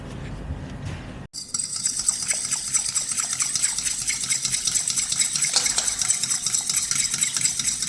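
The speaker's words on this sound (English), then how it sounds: "Just give that a good old whisk and make sure that all the crystals have dissolved." Jelly mixture is whisked in a bowl until the crystals dissolve: after a brief knock, a continuous rapid clinking and swishing of the whisk against the bowl carries on steadily and close, with no talking.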